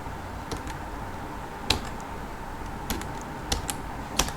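Someone types a prompt on a computer keyboard in short, irregular bursts of light plastic key clicks, with several sharper taps standing out against a quiet room hum.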